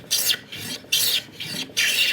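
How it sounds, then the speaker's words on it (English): Hand plane taking shavings off wood while building a dovetailed box: three even, crisp swishing strokes, each about half a second long and separated by short pauses, close and clear with no talking. "So I'm going to take a couple of shavings here,"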